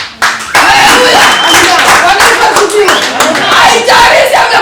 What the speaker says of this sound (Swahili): Simpigie baba makofi.